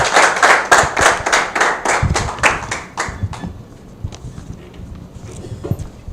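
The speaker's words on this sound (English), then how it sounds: "a round of applause to them" Audience applause at a business acceleration program event: brisk, loud clapping for a couple of seconds that thins to a few scattered claps and fades out.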